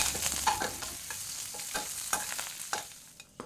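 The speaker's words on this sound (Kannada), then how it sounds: "ಒಂದು ಕಡಾಯಿ ತಗೊಂಡು ಅದಕ್ಕೆ ಒಂದು ಎರಡು ಸ್ಪೂನ್ ಆಗೋಷ್ಟು ಎಣ್ಣೆ ಹಾಕ್ಕೊಂಡು ಸಾಸಿವೆ ಜೀರಿಗೆ ಇಂಗು ಕರಿಬೇವು ಮತ್ತು ಬೆಳ್ಳುಳ್ಳಿ ಇಷ್ಟನ್ನು ಹಾಕಿ" Mustard seeds, cumin, asafoetida, curry leaves and garlic frying in a little oil in a kadai, with soft crackling and several sharp stirring scrapes spread through the clip; no one speaks.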